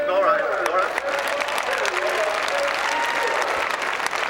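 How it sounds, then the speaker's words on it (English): A crowd at a Spruce Meadows show jumping event applauds steadily throughout, a continuous wash of clapping with a voice talking over it. "Nice round of applause for Ian Millar"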